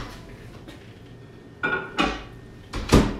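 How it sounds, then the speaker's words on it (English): Microwave-safe dishware is set into a home kitchen microwave with a few close clunks and clatters, the last one loudest, and no talking. "we're gonna put it in the microwave."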